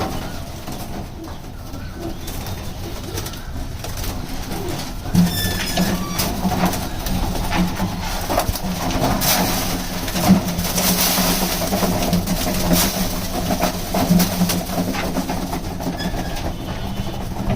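Pigeons coo softly in repeated low murmurs while being fed wheat grains, set against a steady background rumble with scattered clicks and rustling.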